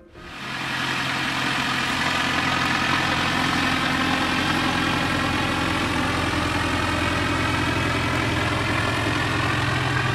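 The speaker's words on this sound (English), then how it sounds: "Here you can see him taxiing to the runway" A light aircraft's piston engine idles steadily while taxiing toward the runway at an airfield, a loud, constant droning hum that starts abruptly and holds nearly unchanged for about ten seconds, with no talking.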